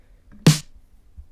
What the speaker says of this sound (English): Let's get this snare.